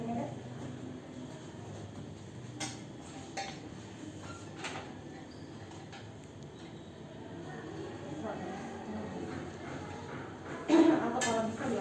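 A porcelain crucible being taken out of a laboratory oven and moved, heard as sparse light clinks and scrapes of ceramic and metal, with a person talking throughout.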